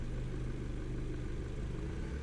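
A 2018 Jaguar E-Pace P250 AWD idles with a low, steady, diesel-like rumble, heard close and constant with no revving.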